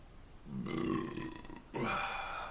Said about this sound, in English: it's a good thing that burp got recorded